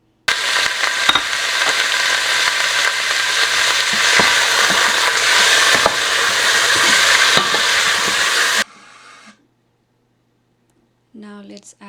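Tofu sizzles in hot oil with ginger, garlic and onion, a dense steady frying hiss filling about eight seconds before stopping abruptly, followed by near silence and a brief voice at the end.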